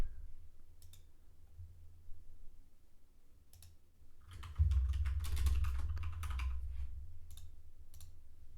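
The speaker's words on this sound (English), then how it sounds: "So I'm gonna type the flight ID here, EJA656." Flight ID typed on a computer keyboard: a few faint scattered clicks, then a brief quick run of key taps, close and quiet over a low hum.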